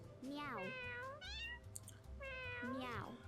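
Cartoonish cat meows from the video game Mewgenics, two distinct rising-and-falling mews about two seconds apart, loud and close, with a few softer chirps in between and a low steady game hum underneath.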